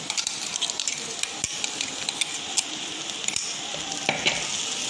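Kerala-style clam meat stir fry being stirred in a frying pan, a steady sizzle with repeated light scrapes and clinks of a spoon against the pan.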